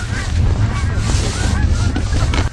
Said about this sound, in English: We got a lot of birds out here.